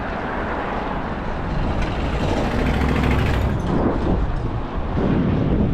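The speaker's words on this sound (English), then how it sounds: "Alright, this is pure throttle. I'm not gonna pedal at all. I'm just gonna throttle it." A DIY electric mullet bicycle's motor runs at full throttle with no pedaling, giving a loud, steady whirring drone mixed with rushing wind and road noise from start to finish.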